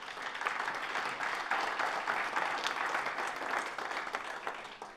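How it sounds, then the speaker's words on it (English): Audience applause at a small-business pitch competition event, a sustained burst of dense clapping filling the hall, steady and fairly close for the whole stretch. "So a round of applause for our awesome School of 30."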